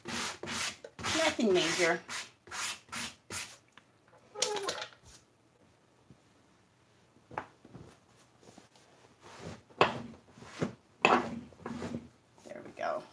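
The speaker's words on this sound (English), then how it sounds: "Just a quick sanding, just to, you know, knock off any of the newness." Short strokes of hand sanding on a wooden banquet side table during distress finishing, a series of scratchy rubbing bursts, close and fairly quiet, with a brief spoken remark partway through.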